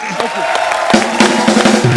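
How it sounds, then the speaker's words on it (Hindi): A comedy-show studio audience claps and cheers for a guest: dense, crowd-wide applause with mixed voices and some musical tones underneath, sustained and fairly loud. "इनके लिए जोरदार तालियां"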